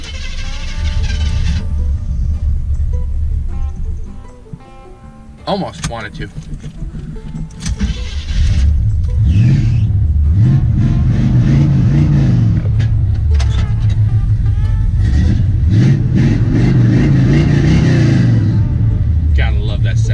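A squarebody Chevrolet truck cranks for a couple of seconds, catches and fires up, then runs with repeated rising and falling revs, loud and close, while someone talks briefly over it.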